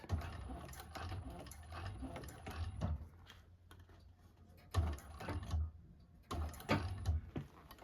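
A sewing machine stitches a bag front at stitch length 5 in short mechanical bursts with pauses between, close and moderately loud, no voices over it.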